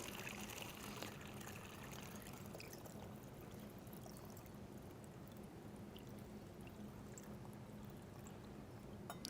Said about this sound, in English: Carefully position that on top of your water bottle. And then we're going to pour in our vinegar and food coloring solution.